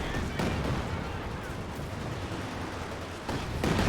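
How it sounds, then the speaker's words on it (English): Katyusha rocket barrage in the World War II strategy game Company of Heroes 2: a sustained roaring rumble of rocket launches and impacts, with heavier blasts at the start and end of the salvo. "And now got a Katusha barrage."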